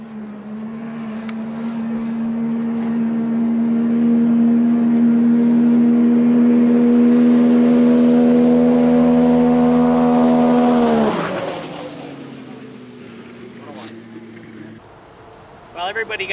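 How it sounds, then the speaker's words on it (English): A 2017 Arctic Cat Thundercat snowmobile with an aftermarket exhaust system and studded track making a speed run, its engine droning steadily louder at a high pitch before passing and fading away, loud and nearby. "we got Steve Livingston on the Thundercat. This has exhaust system only and studs"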